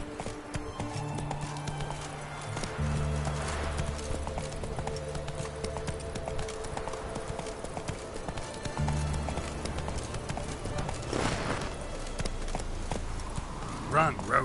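Roach the horse galloping in a PS4 video game, rhythmic clip-clop hoofbeats in bursts with a brief whinny-like swell, heard beneath ongoing game voices and background score.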